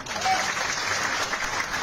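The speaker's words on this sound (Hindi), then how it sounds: "एक बार जोरदार ताली।" Audience applause at a motivational business seminar, a short burst of lively clapping from a gathered crowd, close and continuous for under two seconds.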